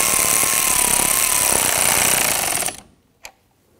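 A power tool whirs loudly and steadily as it snugs the nut on a car battery ground terminal of a 2017-2020 Hyundai Elantra 2.0L, then stops abruptly, followed by a single brief click.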